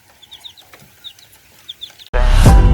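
A chicken, a Rhode Island or a native breed, clucks in short, soft bursts at a moderate distance, then a loud burst of noise takes over at the end.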